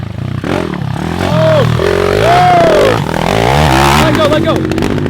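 A pit bike engine revs hard nearby, its pitch rising and falling through quick throttle blips, while people talk over and around it.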